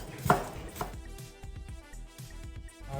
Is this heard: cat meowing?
no